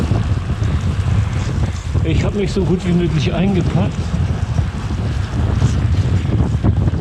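Heavy wind buffeting a microphone while cycling on a 200 km road and gravel brevet in steady rain at 4°C with a tailwind, a constant low roar under someone talking throughout.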